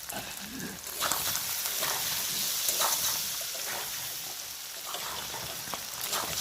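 Halved boiled eggs frying with salt and turmeric in a pan, a steady close hissing sizzle with occasional spatters and light stirring clinks.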